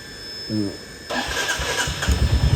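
A Royal Enfield Bullet motorcycle is self-started from cold: a short starter whir, then the engine catches and settles into a rough, close idle.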